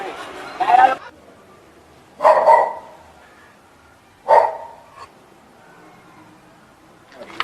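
A dog barks three times in short, spaced bursts, fairly close, in a Jamaican village setting, with quiet background between the barks.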